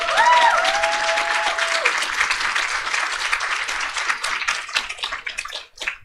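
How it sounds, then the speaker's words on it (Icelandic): An audience at a scout assembly breaks into loud, sustained applause that thins out toward the end, with a short tonal sound near the start. "klappum fyrir því"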